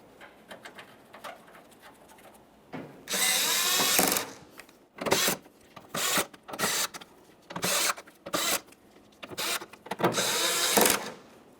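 A power tool drives the eight tailgate mounting bolts on a 2004-2008 Ford F-150, firing in a series of short, loud buzzing bursts separated by brief pauses, close by.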